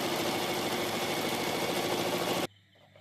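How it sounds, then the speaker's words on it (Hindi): A sewing machine stitches along a buckram collar with a steady, fast mechanical whir for over two seconds, then stops abruptly, leaving quiet room noise. "अब आप ऐसे सिलाई लगा दोगे, मैं आपको सिल के दिखाती हूँ।"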